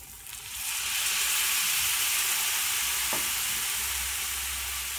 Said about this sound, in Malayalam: അല്പം വെള്ളം ഒഴിക്കണം